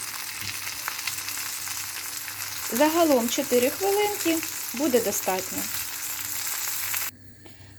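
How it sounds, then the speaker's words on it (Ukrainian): Steady sizzle of thinly pounded chicken schnitzel frying in a pan, while someone speaks briefly in Ukrainian over the crackling oil. "За аналогічним методом смажу другий шніцель."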